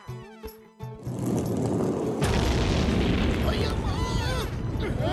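Cartoon rockets go off at once with a loud booming roar that fills the scene after a short musical opening, a sustained rumbling blast with whistling streaks near the end.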